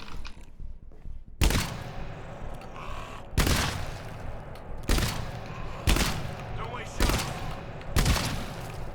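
Gunfire in the video game GTFO, a series of sharp, punchy shots spaced roughly a second apart, each with a short booming tail, over low background noise.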